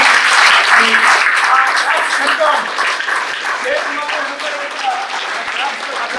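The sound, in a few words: audience clapping loudly for a student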